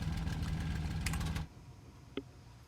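A WWII aircraft engine in IL-2 Great Battles idles loudly after landing with a steady rumbling throb, then cuts off abruptly, followed by a brief pop in the quieter aftermath.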